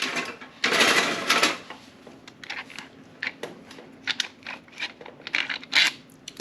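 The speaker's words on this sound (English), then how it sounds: "Take the bolts all the way out." A 4mm T-handle hex key unscrews the side valve cover bolts on a 2022 Honda Goldwing, giving close scraping, clicking and ticking metal sounds in irregular bursts over a low hum.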